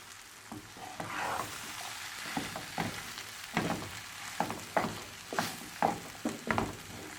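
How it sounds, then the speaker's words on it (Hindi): Spices and ajwain seeds frying in a pan for samosa filling, a soft sizzle under repeated scraping strokes of a spoon stirring the mixture, close and rhythmic. "अब इन्हें अच्छे से मिक्स कर लेंगे।"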